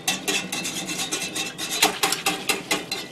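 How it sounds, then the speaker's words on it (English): A whisk scrapes and clatters rhythmically in a pot, working tomato paste into a sauce for canned pork and beans, with quick repeated strokes close up and no talk. "Let's give this a whisk."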